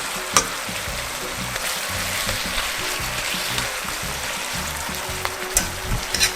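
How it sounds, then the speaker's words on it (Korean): Honeycomb-cut pork belly sizzles in a pan as soy sauce boils down, a steady loud crackling fry with occasional clinks of tongs, no voices. "간장 물 없을 때까지 끓여주시면 돼요"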